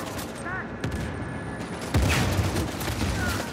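Gunfire in the Uncharted 4 multiplayer video game, scattered shots and a louder burst of fire midway, heard amid other game sounds.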